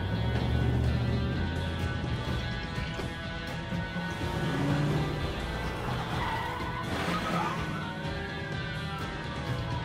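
In the video game As Dusk Falls, a squad car speeds off in pursuit, its engine roaring loud and close while tires squeal and skid across the whole stretch.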